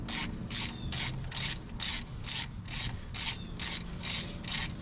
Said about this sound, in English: So I'm doing it with a ratchet.